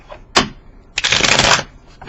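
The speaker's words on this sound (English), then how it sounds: "let's get this shuffled out" Hanson Roberts tarot cards are shuffled up close, a short riffle followed by a longer, dense burst of crisp flapping card noise, loud and with no talking.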